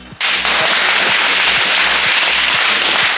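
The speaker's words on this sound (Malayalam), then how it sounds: "അവിടെ പടക്കം പൊട്ടിക്കുന്നുണ്ട്" A rapid, continuous string of firecrackers crackling and popping at a village Vishu celebration, loud and dense, bursts overlapping in a fast rhythm.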